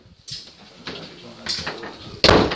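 A door pushed shut with a sharp, loud thump at the very end, following several softer knocks and movements indoors while people talk nearby, with Bengal cats in a breeder's home.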